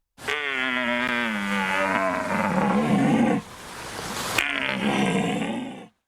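A man imitating a red deer stag's territorial bellow, two long, throaty roars heard up close and loud, separated by a short gasping break.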